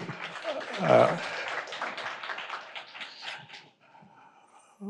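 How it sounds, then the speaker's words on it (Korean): Applause from a forum audience at a university anniversary event, a burst of clapping that swells near the start and then thins out and fades before a voice resumes at the very end. "여러분 큰 박수 부탁드립니다"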